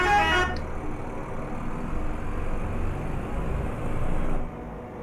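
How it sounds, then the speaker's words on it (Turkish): A bus horn in the Euro Truck Simulator 2 video game with a bus mod gives one short, loud blast at the start, then a steady low engine drone runs alone and fades slightly near the end. "Korna."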